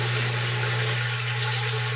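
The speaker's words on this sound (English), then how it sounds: "it's kind of spitting water down into there, and the water coming out is interacting with the water inside the tank" Recirculated water spitting from a shower head down into a barrel aquaponics tank, a steady close wash of splashing water with a constant low hum beneath, no voices.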